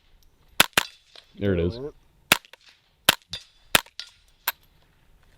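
A .22LR survival rifle fired with a binary trigger, sending out six or seven sharp, loud cracks in uneven pairs and singles, with a short spoken phrase between the first shots.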